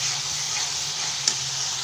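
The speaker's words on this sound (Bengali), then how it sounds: "আদা রসুনটা তলায় লেগে যাচ্ছে তো, ওই জন্য এইভাবে একটু কষিয়ে নিই।" Ginger garlic paste stirred and sautéed in a pan, with a steady close sizzle and faint scraping of the spoon throughout, one brief clatter midway, and no talking.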